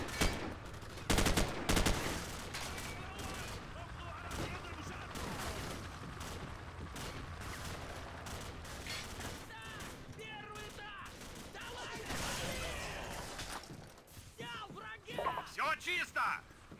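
Bursts of rapid gunfire crackle amid a busy, noisy soundscape in Call of Duty 4: Modern Warfare, with heavier volleys near the start and toward the end, and voices intermittently underneath.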